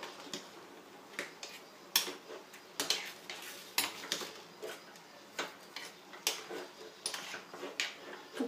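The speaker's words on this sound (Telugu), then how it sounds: "ఉప్పు వేసి మళ్ళీ ఒకసారి కలుపుదాం." Salted chicken liver being stirred in a pan, with a steady run of light metallic taps and scrapes from the spoon, quiet and close, under a soft background sizzle.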